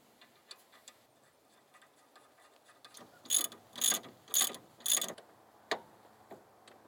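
Four sharp ratcheting clicks from a torque wrench tightening a nut on the ball joint of a BMW E34 lower control arm to 68 foot-pounds. The clicks land close and evenly spaced, with a few quieter mechanical ticks around them.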